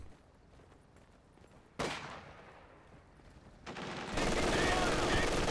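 Rapid bursts of machine-gun fire from a half-track in Company of Heroes 2, with a short rattle, a pause, then a longer sustained burst that stays loud to the end.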